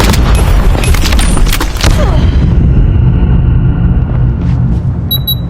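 A grenade explodes in the Call of Duty Mobile shooter game: a loud, booming blast with rapid gunfire crackling over it, then a rumbling tail that fades over several seconds and gives way to faint high electronic tones.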